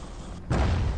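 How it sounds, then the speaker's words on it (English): An explosion from the video game Bastion hits abruptly after a short lull, a deep, loud booming burst that rumbles on to the end. "Kaboom."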